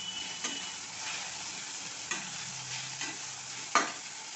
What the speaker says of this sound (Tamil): பூண்டு கத்திரி வத்தல் சுண்டைக்காய் வத்தல் எல்லாம் அவங்கள சேர்த்துக்குவோம் ஒரு கிண்டலை கொடுத்துருவோம்